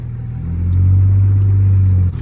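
Engine of a 1934 Plymouth Coupe cranked and briefly catching, a close, loud, low droning hum that swells after half a second, holds steady, then cuts off abruptly near the end.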